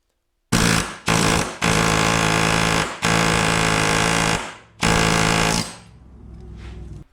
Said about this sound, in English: I'm going to go grab the air chisel again and just break it free.